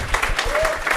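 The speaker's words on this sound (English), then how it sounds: "So please give him a round of applause to welcome him." Brief audience applause at a Flutter developer conference session, welcoming a presenter to the stage; steady clapping fills the whole second.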